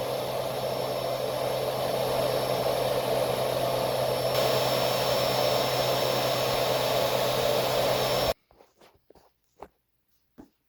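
A Vortech XR3000 vacuum cleaner roars loudly and steadily at close range for about eight seconds, then cuts off abruptly. A few scattered footsteps and light knocks follow.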